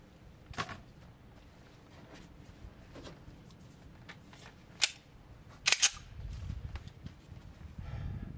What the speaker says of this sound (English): So let's do some shooting and see how they work.